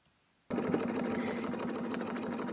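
Sewing machine stitching through fusible web on a quilt project, starting abruptly after a brief silence and then running steadily with a loud, even motor whir and rapid needle chatter.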